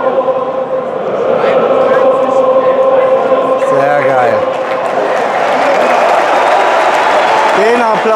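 A packed stadium crowd at a Mainz 05 versus Borussia Dortmund football match roars and applauds continuously, with sustained singing voices and dense clapping filling the whole stretch at steady, loud volume.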